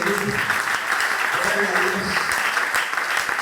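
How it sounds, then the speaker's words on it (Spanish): A church congregation applauds steadily throughout, dense clapping filling the space beneath voices and shouts. "Que denle un aplauso al Señor."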